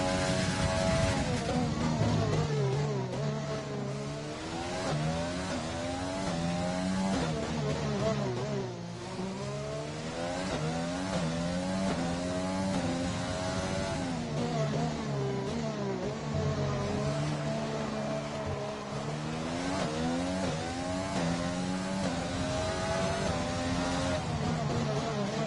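A race car engine in an F1 racing video game screams at high revs on a fast lap around the Azerbaijan circuit, pitch climbing and dropping through gear changes and corners, loud and continuous throughout.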